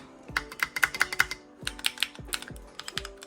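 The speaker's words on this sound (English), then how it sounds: "I have to get used to just the way the keys sound" Typing on a FIRSTBLOOD B67 Obsidian Black mechanical RGB keyboard with transparent keys: a close run of crisp, clacky keystrokes at an uneven pace, broken by a brief pause, with no talking.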